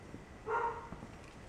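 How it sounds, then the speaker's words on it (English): A pet dog barks inside a house, a short faint burst heard at a distance within the room against quiet background. "Oh, somebody's coming home because Gemma is barking"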